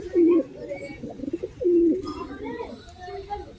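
Pigeons coo in two short low bursts near the start and middle, quieter cooing continuing behind them, with someone talking over it among a collection of fine-breed pigeons.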